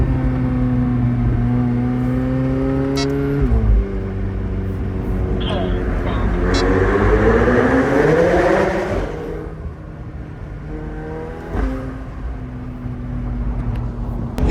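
Straight-piped McLaren 720S accelerating hard through a tunnel, its loud, close engine note climbing in pitch, dropping briefly at a shift, surging again, then easing and picking back up near the end, with voices talking over it.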